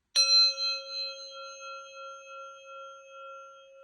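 A single strike makes a forged steel wedge ring out with a clear, bright tone that sustains and slowly fades, the wedge after annealing.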